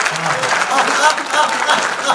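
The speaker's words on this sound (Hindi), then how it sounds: "ताली बजा दो, इस पे भी ताली बजाई जाती।" Audience applause at a Hindi comedy poetry gathering, a steady wash of clapping hands that fills the whole stretch at moderate loudness with no talk over it.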